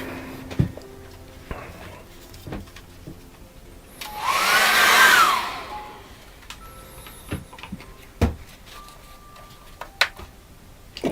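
A hair dryer blasts watercolour paint dry in one loud, steady burst of about two seconds, standing out alone against a quiet room with scattered small knocks before and after.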